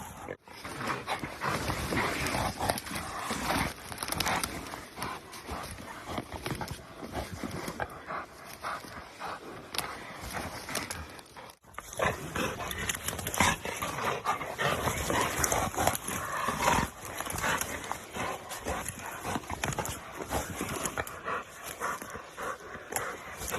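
Working bulldogs pant heavily and shuffle about close by, a continuous breathy rasp mixed with movement noises and wind, broken by a brief gap partway through.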